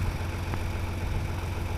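A John Deere 4230 tractor engine idles steadily with a low, even rumble that stays close and constant for the whole short stretch, with no speech.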